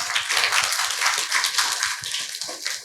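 An audience at a business masterclass applauds for about three seconds, dense steady clapping from many hands filling the room, with no voices.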